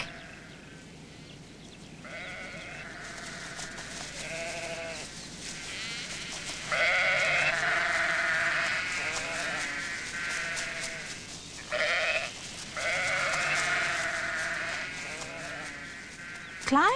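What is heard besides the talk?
sheep bleating while a sheepdog herds them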